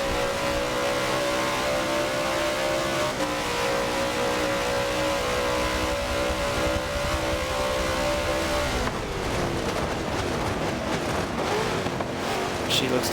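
Onboard a GT race car lapping COTA in traffic, a loud, steady engine drone with shifting harmonic tones, a gear change near the end, and commentary talking over it.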